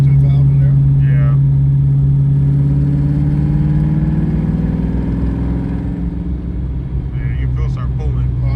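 A Ford Foxbody Mustang with Pro M EFI drones loud and close from inside the car as it pulls in fourth gear, its engine note rising steadily under occasional talk.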